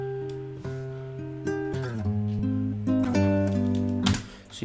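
Dry, unprocessed guitar loop played on a real instrument for a hip-hop sample, a steady run of sustained, shifting chords and notes with a few sharp plucked accents, fairly loud and alone with no talking.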